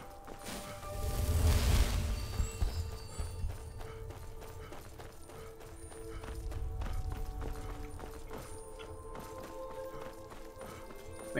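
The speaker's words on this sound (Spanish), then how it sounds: "Qué bonito el caballo." Horse hooves in Skyrim clip-clop steadily at a running pace, with a loud rumbling surge early on and softer rhythmic hoofbeats afterward under the game's ambient background.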